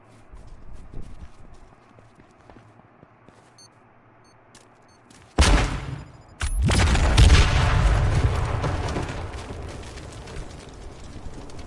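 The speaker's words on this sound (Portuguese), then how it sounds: "Deixa eu tacar uma granada aqui." A grenade in a video game detonates with a sudden loud boom after quiet ambience, followed by a second blast and a long rumbling, crackling aftermath.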